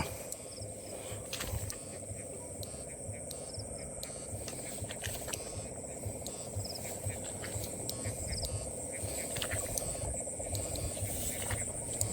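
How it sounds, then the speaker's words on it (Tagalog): Steady chorus of frogs croaking outdoors at night, layered with a constant high insect drone, no talking, continuous throughout. "Palaka. Palaka mga idol."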